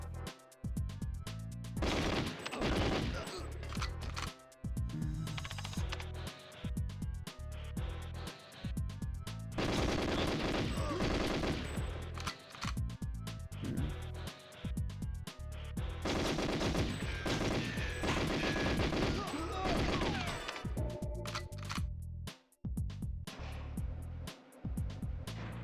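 Gunfire in the N64 video game GoldenEye 007, rapid bursts of automatic shots and single cracks repeating in dense clusters with brief pauses, loud and close over game music.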